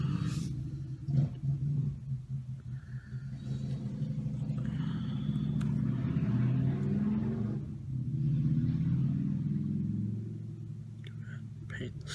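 A motorcycle passes outside, a muffled rumble that swells and fades over several seconds, heard indoors and quite faint beneath soft whispered talk.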